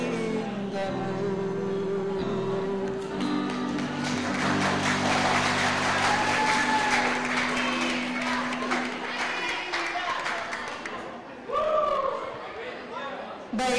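Audience of high school students applauding at a Ramadan school event in Ternate, a sustained burst of clapping and crowd chatter that swells and fades, with a voice speaking near the end.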